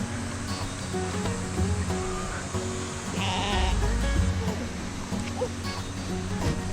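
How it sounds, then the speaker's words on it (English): Sheep bleat at a sheep farm in Namhae, South Korea, with repeated bleats from several animals near and far over a steady outdoor wash of background noise. "I'm surrounded by sheep."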